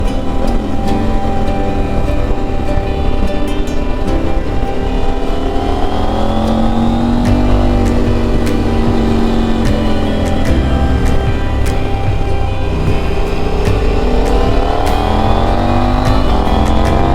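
A motorcycle rides along the Devon coast on a hot day, its engine droning steadily and loudly throughout with gentle rises and falls in pitch as it accelerates and eases off, mixed with constant wind rush.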